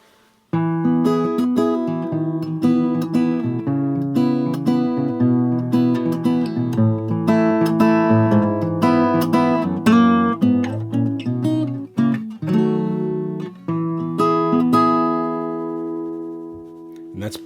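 Fingerstyle acoustic guitar playing a song, with plucked bass notes and melody and a few strummed chords, close and clear with no voice.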